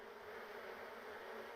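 Steady, dense swarm of angry bees droning continuously in a video game while honey is collected, an even close buzz with no talk.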